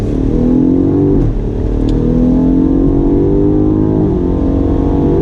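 A 2019 BMW M5 Competition sedan engine pulls hard under throttle through a tight right-hand bend, pitch climbing steadily, dipping briefly at a gear change, then rising again; loud and close, no talking.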